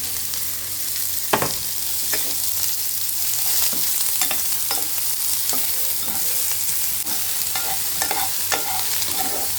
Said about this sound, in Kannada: ಈರುಳ್ಳಿನೂ ಕೂಡ ನಾವು ಫ್ರೈ ಮಾಡ್ಕೋಬೇಕು